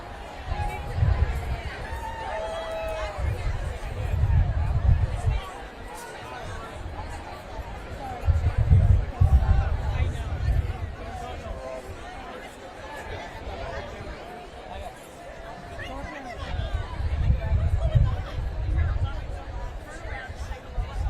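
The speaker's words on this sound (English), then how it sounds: "I want you to say hello to someone you've never met before in the crowd" Crowd at a "No Kings" protest in Austin, people chatting and greeting one another, a steady babble of many voices with swells of louder chatter, heard from within the crowd.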